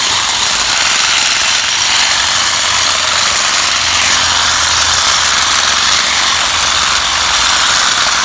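A Sun Joe cordless pole hedger trims a hedge outdoors, its motor and blades buzzing in a steady, loud, continuous drone with a broad hiss and no voices.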